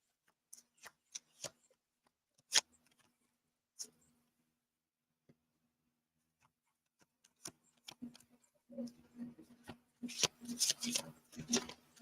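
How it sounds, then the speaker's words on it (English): Tarot cards are shuffled in soft, scattered flicks, then a quick continuous riffle builds near the end, close and quiet with a low steady hum. "Listening to cards shuffle or Shuffle."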